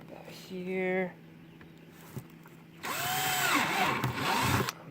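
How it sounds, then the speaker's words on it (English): A cordless drill with a weakening battery bores holes in a chicken brooder: a short rising whir, then a longer, louder grinding burst through the material. Someone talks nearby. "Battery's going dead on my drill."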